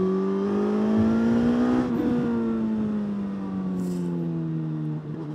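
A Suzuki GSX-S1000 GT motorcycle under throttle: the engine note climbs as it accelerates, then eases back and drops slightly, heard close and continuous with no talking.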